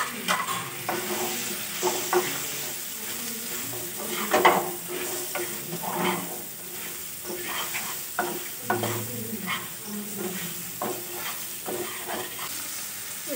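Fried prawns sizzle in a pan for a prawn malai curry, with steady crackling frying and repeated scraping stirs that rise and fall throughout, close and moderately loud with no talking.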